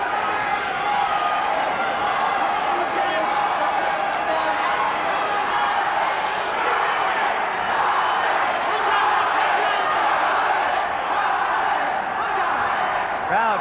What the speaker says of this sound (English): Crowd chanting, Robin, Robin